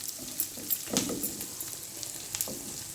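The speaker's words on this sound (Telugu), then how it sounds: "ఉల్లిపాయ వేగిందండి" Onions frying in a pan with dried red chillies and masala spices for a chenna curry, a steady close sizzle with soft crackles and occasional stirring scrapes.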